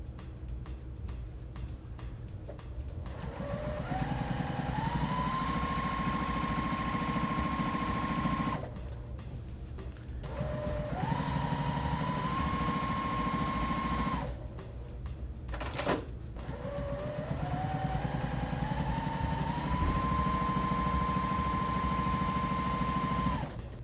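A sewing machine stitches binding onto the edge of a quilt in three runs. Each run is a motor whine that climbs in pitch and then holds, with short pauses between runs.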